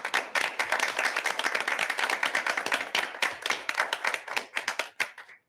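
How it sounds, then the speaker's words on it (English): A round of applause at a school board general meeting, dense sustained clapping from a room of people that holds steady for several seconds and then thins out to a few last claps. "let's just do one more round of applause"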